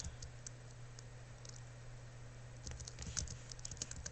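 Quiet typing on a computer keyboard, with scattered soft key clicks that turn into a quicker burst of taps toward the end over a low steady hum.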